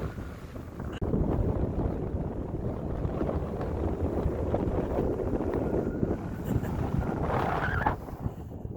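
Strong wind roars and buffets against the microphone in a constant rumbling gust on open sand dunes, loud and close with no other sounds standing out.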